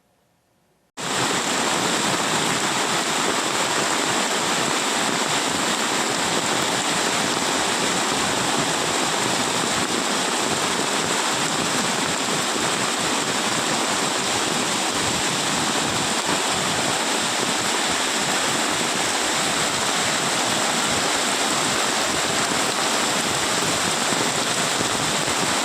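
Steady, loud rushing of a river swollen by heavy rain and fed by water released from a dam. The roar starts abruptly and then holds unbroken, with no voices.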